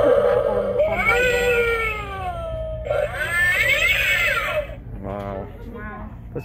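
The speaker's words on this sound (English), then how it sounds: "It's a black cat." A Halloween toy black cat lets out a few wavering electronic meows in quick succession, loud and close.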